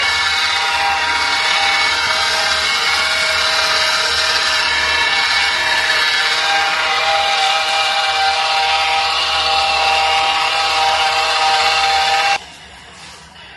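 A polishing pad loaded with gritty compound whirs and rubs in a loud, steady, grinding hiss that runs without a break before stopping abruptly near the end, with no talking.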